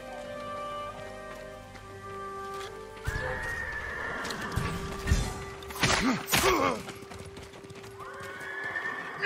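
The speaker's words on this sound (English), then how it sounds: "Let's get to the horses." Horses whinny loudly over steady hoofbeats and a soft ambient backdrop in Ghost of Tsushima, with several neighs clustered in the middle and a continuous game soundscape.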